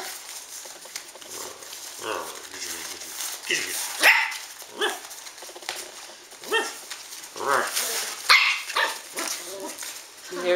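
Several Shetland sheepdogs bark in repeated sharp bursts at close range, with a person talking excitedly between and over the barks.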